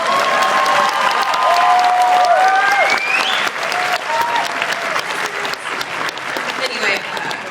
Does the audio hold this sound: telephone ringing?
no